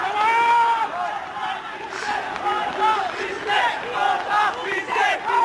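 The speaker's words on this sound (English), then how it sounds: "The crowd is swelling," Crowd of anti-government protesters in the streets of Sri Lanka shouting and chanting in rising and falling waves of many voices, loud and close, with bursts of cheering.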